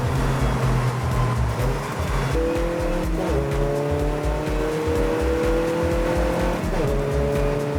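A BMW racing car, a Class A car, roars at high revs, its pitch climbing and shifting as it speeds past, loud and continuous with other engines droning underneath.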